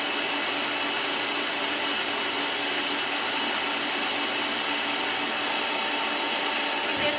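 Electric mixer beating egg whites for a white chocolate bavaroise, a loud continuous high-pitched motor whir that stays steady and close, with no talking.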